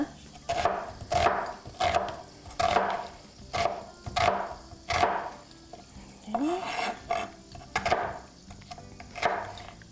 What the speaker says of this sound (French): je vais hacher mon oignon